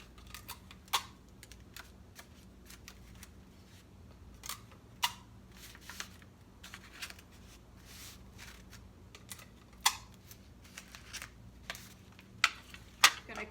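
Folded brown paper being taped, heard as scattered close clicks, tape crackles and paper handling over a quiet background, with faint talk at times.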